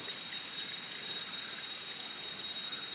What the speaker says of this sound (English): Nice little stream here coming down from the top of the hill